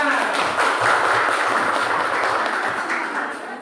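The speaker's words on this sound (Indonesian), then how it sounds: "kasih tepuk tangan semuanya" Students in a classroom clapping after a group presentation, a brisk burst of applause from a modest crowd that gradually thins toward the end, with faint voices mixed in.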